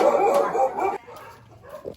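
Several dogs bark and yip outside near a house gate, the sound dense and fairly close at first, then thinner and quieter, with a whimpering tone toward the end.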